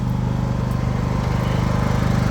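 A Champion 8500 watt inverter generator runs at low idle in eco mode, a steady, even engine drone with a low pulsing hum, close and continuous.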